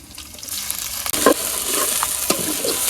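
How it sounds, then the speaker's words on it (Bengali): Shrimp and chopped onion sizzle in hot oil in a wok, a soft steady frying hiss broken by a few sharper crackles and spatters as the food is stirred. "কড়াই দিয়ে দিলাম চুলায় তেল দিয়ে দিলাম দিয়ে দিলাম পেঁয়াজ কুচি চিংড়ি মাছ দিয়ে দিলাম"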